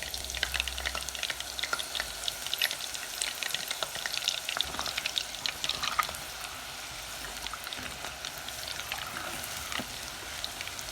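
Prawns deep-fry in hot oil for a Bangladeshi Chinese-style crispy prawn fry, a dense, even crackle and sizzle up close, steady the whole time with no voices.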